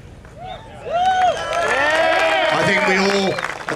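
Crowd cheering and calling out at a motorcycle racing charity auction and interview event. The noise swells and stays loud, with whoops and shouts near the mic and no clear speech.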